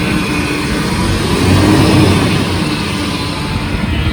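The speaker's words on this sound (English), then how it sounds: "it's a nice running little truck too" A small truck engine runs steadily nearby, a low rumbling drone that swells slightly in the middle before settling back.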